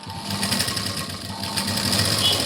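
An electric sewing machine stitches a blouse sleeve seam with a rapid, steady mechanical chatter, running continuously up close with no pauses.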